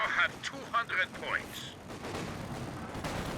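An anti-tank gun fires in the WWII strategy game Company of Heroes 2, sounding as a few sharp, loud cracks over the first two seconds that fade into a lingering rumble, with game voices over them.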